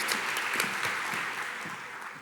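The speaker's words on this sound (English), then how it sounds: "Give Emma a round of applause" Applause from an audience at a talk event fills the room as a guest comes up, a steady, broad wash of clapping that stays even and tapers slightly toward the end.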